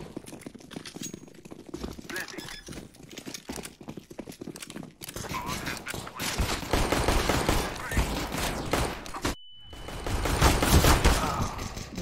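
Gunfire in the video game Counter-Strike: Global Offensive, with bursts of rapid shots and sharp cracks over a busy in-game background, quiet at first and then growing louder, without talk.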